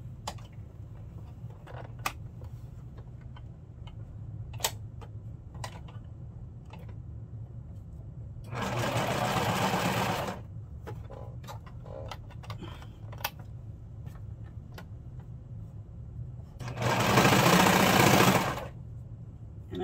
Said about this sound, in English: now I'm just going to stick it in the machine and I will sew all the way around